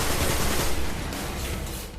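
Sustained automatic gunfire from an auto rifle in the video game Destiny, a dense unbroken burst of rapid shots at steady loudness for about two seconds, with no voices.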